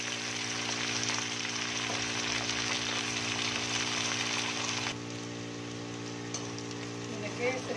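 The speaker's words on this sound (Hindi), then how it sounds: "ऊपर नीचे करना है ताकि भिंडी अच्छे से फ्राई हो जाए" Okra (bhindi) fries in a pan and is turned over: a dense, even sizzle crackles continuously up close, then drops slightly softer partway through, with faint scrapes of stirring.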